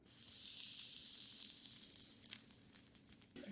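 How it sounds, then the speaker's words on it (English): Crystal cat litter sizzling inside a PetKit Purobot Crystal Duo automatic litter box, a close, soft, continuous fizzing crackle with scattered tiny pops that tapers off before a faint knock at the end. "It actually sizzles a little bit when it goes in."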